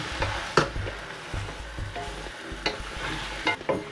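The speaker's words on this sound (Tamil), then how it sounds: "நெருப்பை நல்லா கூட்டி வச்சு நல்லா மிக்ஸ் பண்ணணும்" Mixed devil of kingfish, mutton, chicken and prawn with paneer and soy sauce is stirred over a high flame. Steady sizzling runs under repeated scraping and clanking from the spoon against the pan, with no voices.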